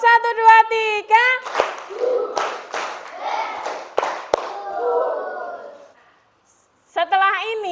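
A fifth-grade class claps hands together in rhythmic counted bursts in a classroom, several sharp group claps spaced between children's chanting voices, then a brief silence before voices return.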